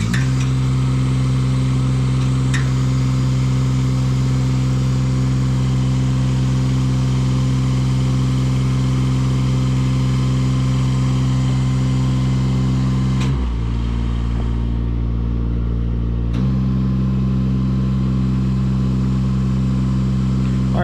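A 1992 CMC aerial lift engine running steadily at a close, loud, even idle, with a brief change in pitch and load partway through before settling back.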